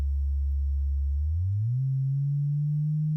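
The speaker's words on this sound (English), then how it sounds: "if I turn this knob right here on warps, it's going to change the pitch of that noise." A steady low sine tone from a modular synthesizer, the pitch gliding upward partway through as a knob on a Warps module is turned, then holding at the higher pitch; clean, constant and alone.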